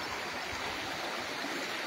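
A river flowing beside a farm lot in Real, Quezon, heard as a steady broadband wash of running water, fairly close and unbroken, with no voices over it.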